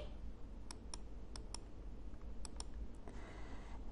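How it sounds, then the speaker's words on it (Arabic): Several crisp computer mouse left-clicks sound, spaced irregularly, some in quick pairs, faint and close over a low steady room hum. "اضغط كليك شمال بالماوس واسحب لغايه اخر حاجه انا عايزه اقف عندها"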